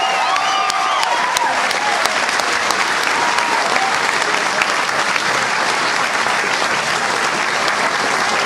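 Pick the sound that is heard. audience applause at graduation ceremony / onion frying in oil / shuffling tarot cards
audience applause at graduation ceremony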